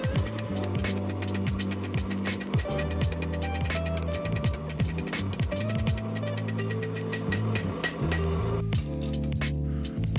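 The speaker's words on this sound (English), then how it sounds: "And then I just clean that transition up on the base of the anvil." Rapid, ringing hammer blows strike hot steel on an anvil while a blacksmith forges a hammer eye drift, loud and close with bright metallic clinks, then a brief pause and a few lighter taps at the end.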